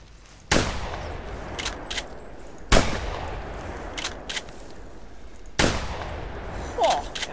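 Three loud, sharp rifle shots at a silver-tipped brown bear in the hunting game theHunter, spaced a few seconds apart, each followed by a fading echo, with faint small sounds in the quiet between.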